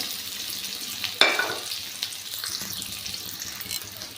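Frying food in a hot kadhai with oil while homemade samosas are prepared, heard as a soft steady sizzle with a brief sharper burst of spatter near the start, fairly quiet and without speech.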